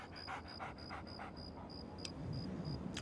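Dogmeat, the dog companion in the video game Fallout 3, pants in quick, regular huffs, faint and steady over a low ambient hum, with no talking.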